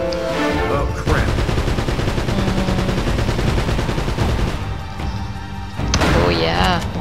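Gunfire from Uncharted: Drake's Fortune rattles in dense automatic bursts and single loud shots, with crashes and booms, continuing almost without a break across the scene.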